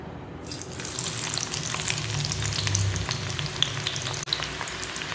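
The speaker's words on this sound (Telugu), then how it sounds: "ఆనియన్స్ అనేవి క్రిస్పీగా అయ్యే వరకు వేయించుకోవాలి" Onions deep fry in hot oil, giving a loud, close, steady bubbling sizzle that starts abruptly and continues with a brief clatter near the end.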